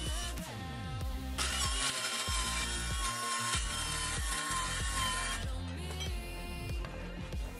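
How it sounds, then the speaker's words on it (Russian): A circular saw whines at high pitch as it cuts lengthwise through a laminate board on a guide rail, a long continuous cut with the motor spinning up and easing off. "Теперь ставим пилу на приспособу и отпиливаем лишнее вдоль."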